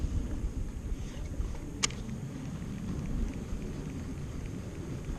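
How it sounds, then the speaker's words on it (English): Wind gusting across Falls Lake in Durham, North Carolina, on a warm sunny day out fishing; a steady low buffeting rumble against the microphone, broken by one brief sharp click. "wind blowing"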